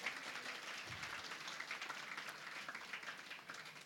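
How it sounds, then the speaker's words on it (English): A roomful of people at a school podcast event applauds a guest, a continuous wash of claps at moderate level that holds evenly from start to finish. "So let's give a huge round of applause for Pruthvi ma'am"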